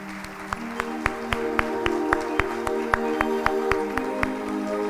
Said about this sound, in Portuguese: Glorifique o Senhor com as suas palmas